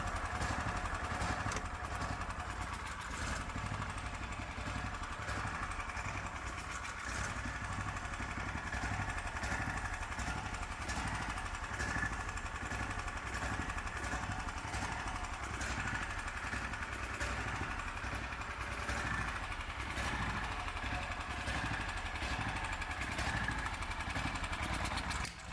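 A Hisun UTV fitted with a swapped-in Predator 420 engine runs steadily in gear, a loud, continuous mid-pitched engine drone with a rapid pulsing beat and faint clatter, holding evenly close by throughout.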